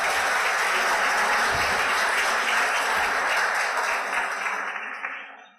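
Audience at a round-table panel on Peru's national public registry system applauding, dense sustained clapping that holds steady for several seconds and then fades out toward the end.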